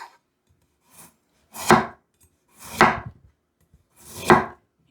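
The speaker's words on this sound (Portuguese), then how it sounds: "Um pedaço de cenoura, mais ou menos 4 dedos de comprimento. E vamos cortar assim, de comprido." A knife slicing a piece of carrot lengthwise on a cutting board: three distinct crisp cuts spaced about a second apart, each a sharp crunch ending in a board tap, with a faint touch in between and no talk.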